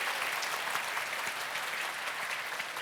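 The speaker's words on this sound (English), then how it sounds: "Big round of applause, please, for Yousif." An audience at a security conference claps steadily for a speaker, a dense wash of applause that stays even and moderately distant, alone without talk.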